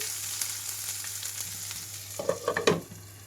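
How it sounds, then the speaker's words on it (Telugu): Onions and sliced green chillies fry in a pan, giving a steady close hiss; a few louder crackling bursts and utensil scrapes come near the end. "కట్ చేసి వస్తున్న పచ్చిమిరపకాయలు అలాగే ఉల్లిపాయలు ఇక్కడ ఉల్లిపాయలు వేగే వరకు మూత పెట్టేసి ఉంచుతున్నామండి"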